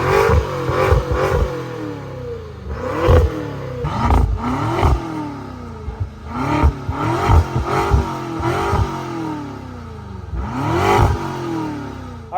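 A 2014 BMW M6 coupe pulls away on the road, its engine repeatedly revving up through the gears in rising sweeps, each shift followed by another climb, loud and close.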